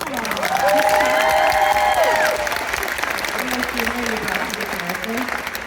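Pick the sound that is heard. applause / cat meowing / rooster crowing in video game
applause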